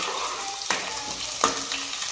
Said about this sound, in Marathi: तेल गरम झाला, त्यात टाकूया लसूण ठेचलेला.